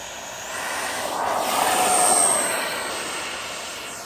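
RC MiG-29 model jet with turbine engine taking off, a steady high-pitched whine and roaring rush that swells as it passes closest, then slowly fades away.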